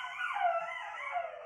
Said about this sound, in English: Dogs are so dramatic.